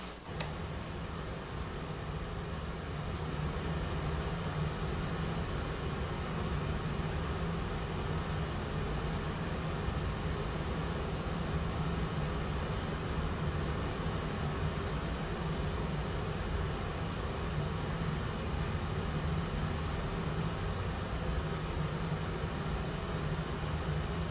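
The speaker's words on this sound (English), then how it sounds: "Then 60 V filtered from white noise, we get red noise or brown noise." A steady, dense rush of low, rumbling red noise, filtered from white noise on a modular synthesizer, plays continuously and evenly, without pauses or variation, like deep filtered static.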